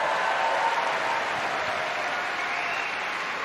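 An audience at a live Laver Cup Q&A with Roger Federer breaks into sustained, dense applause, loud and steady from start to finish with no gaps.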